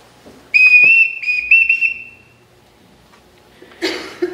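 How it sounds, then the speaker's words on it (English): A shrill whistle blown in several quick bursts, loud and close, during a high school stage production of The Sound of Music, followed by a pause and then a burst of clattering noise. "Everyone in this house answers to a whistle."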